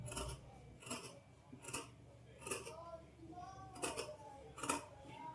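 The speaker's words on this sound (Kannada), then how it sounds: "ದಪ್ಪ ಇರೋದ್ರಿಂದ ಸಿಸರಲ್ಲಿ ನಾವು ಕಟ್ ಮಾಡ್ಕೊಳ್ಳೋದು ಸ್ವಲ್ಪ ಕಷ್ಟ ಆಗುತ್ತೆ" Scissors snipping through thick blouse fabric in repeated sharp cuts about once a second, close and crisp, with a quiet voice talking faintly between snips.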